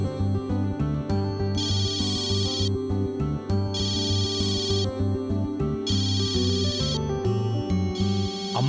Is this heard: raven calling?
no